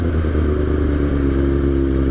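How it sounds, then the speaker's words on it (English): A Kawasaki ZX6R Ninja 636 sport bike revs at low speed downtown, its exhaust giving a close, loud, continuous throbbing rumble with a clattery edge for the whole stretch. "I only rev up low speeds like that because it's easier to get the bike"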